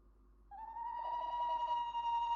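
An owl calls at night, a single sustained, faint hoot-like tone starting after a brief pause and holding steady at a distance in a quiet setting.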